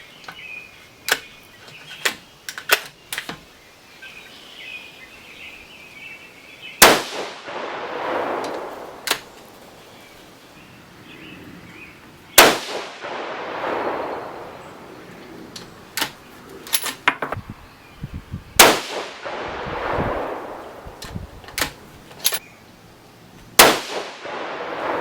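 A Savage 110 Tactical rifle fires 6.5 Creedmoor rounds, 123-grain BTHP loads over H4350, in four sharp, loud reports spaced several seconds apart, each with a rolling echo, between quieter clicks and handling noises.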